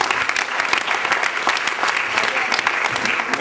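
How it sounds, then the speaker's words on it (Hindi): A theatre audience at a Sindhi comedy stage play bursts into loud, sustained applause, dense rapid clapping from many hands that fills the whole stretch close and steady. "जोरदार तालियों"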